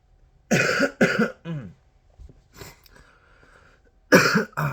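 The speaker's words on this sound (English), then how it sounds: "Sorry, I'm just coughing." A few harsh coughs close up, a pair in quick succession, then a pause with faint throat sounds before another loud cough.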